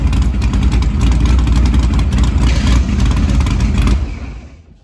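A race car engine at a Fourth of July race roars loud and sustained at high RPM for about four seconds, then cuts off and fades.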